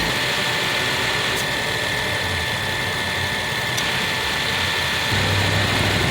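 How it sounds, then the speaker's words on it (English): A car's air-conditioning compressor clicks on while the engine idles, adding a steady low engine drone with a slight lift in low rumble near the end; no one speaks. "that means that the compressor came on, that means it's good to go"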